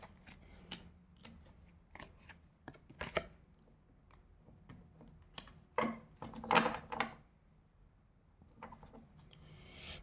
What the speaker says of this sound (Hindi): जय हो बाबा हनुमान बाबा, एक कार्ड और दीजिए।